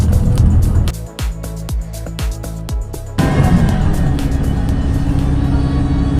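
Steady road traffic and engine rumble from inside a bus heading to Ortigas, Manila, with a continuous low drone, a few sharp knocks early on and a louder, brighter wash of passing vehicles later.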